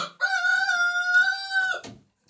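A Jersey Giant rooster crows one long, loud, sustained call nearby, ending with a brief throaty cluck-like note.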